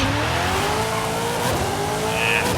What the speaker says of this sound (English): once you move the car forward, you're gonna press A, gas and clutch.